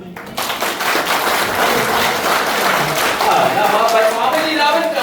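An audience applauding for a grandmother's birthday, dense sustained clapping that starts suddenly and stays loud, with voices mixed into the crowd noise.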